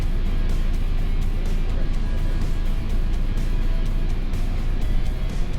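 Toyota Land Cruiser 250 hybrid crawls slowly over a big rock on crawl control, a steady low engine and drivetrain rumble close by with faint rhythmic ticking and pulsing throughout.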